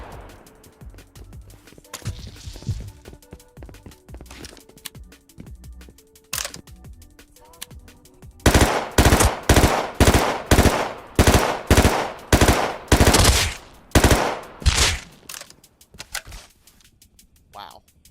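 Gunfire from guns in the video game Rust: a few scattered shots at first, then long, loud, rapid-fire bursts in a steady hammering rhythm that fade into sparse cracks near the end.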